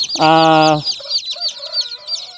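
Chickens in a breeding pen: one loud, drawn-out call close by, followed by softer, scattered clucks and chatter from the flock.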